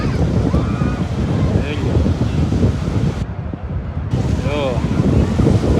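Sea waves churn in a loud, steady roar with heavy wind noise across the microphone, while voices faintly come through and the sound briefly thins midway.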